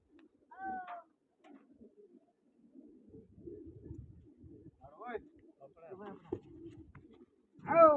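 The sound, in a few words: pigeon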